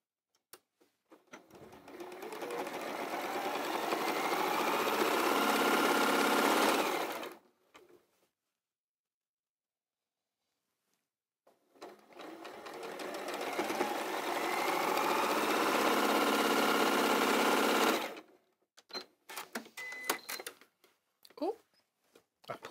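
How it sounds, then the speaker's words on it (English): A domestic sewing machine chain piecing quilt blocks runs in two long, steady whirring bursts of about six seconds each, close and loud, separated by a pause. Light clicks and handling follow at the end. "Now I'm just going to sew that onto there."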